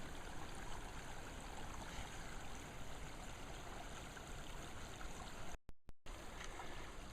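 Water rushes steadily over riffles and small hydraulic jumps in an irrigation ditch during a summer water walk, a close, continuous broadband babble with a brief dropout near the end.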